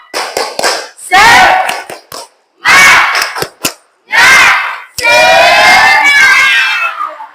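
A classroom of students performs a rhythmic clapping chant together, loud bursts of unison shouting and clapping broken by short pauses and ending in a longer shrill group cry.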